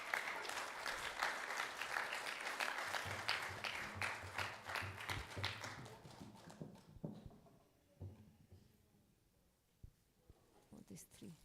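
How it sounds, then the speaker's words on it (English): Audience applause at a Sunday feast gathering: dense, steady clapping from many hands for about seven seconds, then tapering off to a few scattered claps beneath a speaking voice. "So please give them a big round of applause."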